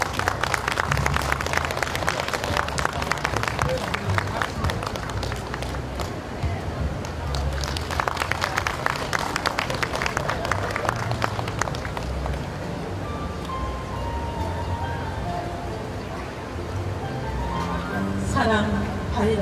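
An audience at a poetry recitation event claps in bursts to welcome the reciter, the applause swelling, dipping and returning under and between a host's talking, with rustling and background room noise.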